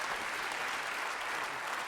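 Comedy club audience applauding after a stand-up set, a steady, even patter of many hands clapping together, moderately quiet and sustained without pause.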